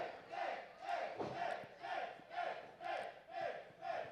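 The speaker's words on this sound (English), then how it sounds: "the crowd trying to get behind the hometown hero" Wrestling crowd at the FSW Arena rallying behind hometown hero Chris Bey in a rhythmic chant, swelling and dipping roughly twice a second, loud and steady with no talk over it.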